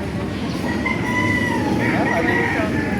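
A rooster crows loudly and close at a chicken market in Baliuag, Bulacan, a drawn-out call over a background of clucking and general farmyard noise.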